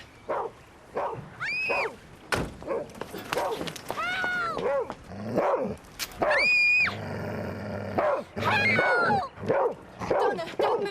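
A dog in a rural countryside scene yips, whines and whimpers in rising, pitched cries mixed with barks, interleaved with voices and outdoor commotion throughout.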